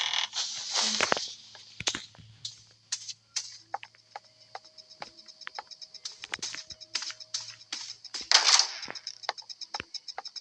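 Computer keyboard keys clatter in quick irregular bursts of clicks, fairly close, over a faint hum, with a couple of louder bursts and no talking.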